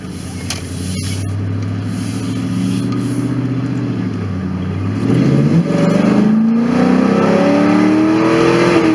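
A car with a cold air intake idles with a steady low drone, then revs up with rising engine pitch toward the end, recorded from inside with the windows down so some wind and cabin noise comes through.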